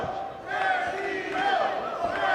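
A wrestling crowd at a PWG world title match boos Daniel Garcia as he faces Bandido, a loud, sustained mass of voices with wavering drawn-out tones that swell and hold across the moment.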